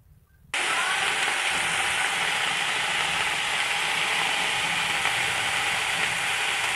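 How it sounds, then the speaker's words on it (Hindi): Cauliflower (gobi) hits hot oil in a pan and breaks into a loud, steady sizzle that holds evenly after a quiet start, close and with no talk. "ये देखिए गोभी को मैंने फ्राई के लिए रख दिया है।"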